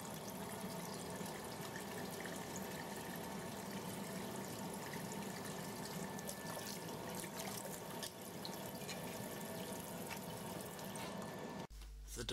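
Cold tap water runs steadily over a PCB board during rinsing, a continuous faint splashing flow that stops abruptly near the end.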